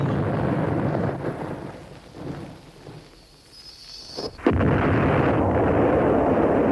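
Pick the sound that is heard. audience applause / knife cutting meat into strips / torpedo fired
torpedo fired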